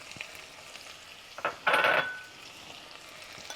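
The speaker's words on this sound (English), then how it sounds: "I'm gonna add in our onions now." Half a chopped onion drops into hot oil in a soup pot, giving a quiet sizzle, then a brief louder burst of frying and stirring before settling back to a faint hiss.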